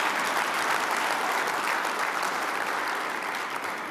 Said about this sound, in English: Can we give one more round of applause for Jill, Art, Cecilia, Liz,